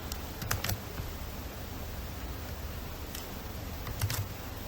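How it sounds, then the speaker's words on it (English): Light keystrokes on a computer keyboard come in a few short bursts of clicks over a steady background hiss, faint and close, with no voices. "So here we're going to now type in this, ready to work."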